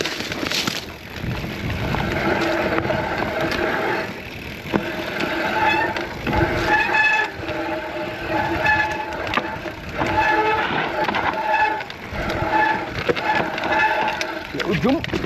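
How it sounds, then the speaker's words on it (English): A Calibre Triple B mountain bike's brakes squeal on a tight-cornered trail descent, with shrill, wavering tonal squeals rising over steady rolling and wind noise, close and loud, repeating in several bursts. "Brake is an awful sound, not gonna lie."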